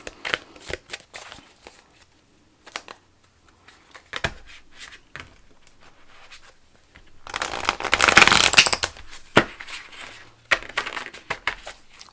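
Spirit Animal Oracle cards get a long riffling shuffle, a dense close papery flutter lasting a couple of seconds, framed by scattered flicks, taps and card handling.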